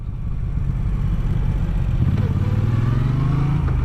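Moto Guzzi V9 bobber engine droning low and steady while riding, with a rising rev toward the end, close up with wind rumble.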